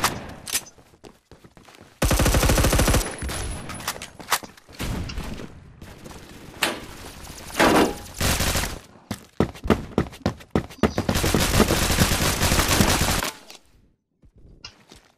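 Bursts of automatic gunfire from teammates in the Roblox shooter Phantom Forces, loud sustained fusillades broken by short pauses and scattered single shots, with no voices over them.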